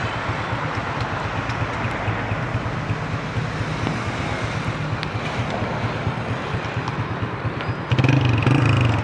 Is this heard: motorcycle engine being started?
yes